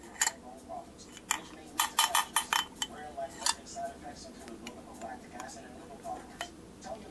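A spoon scrapes and taps against a dish while pecan sauce is served at a home birthday celebration, with irregular clinks clustered in the middle and a voice talking quietly underneath.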